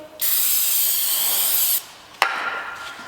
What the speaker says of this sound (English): we're gonna use some brake cleaner and clean off the pressure plate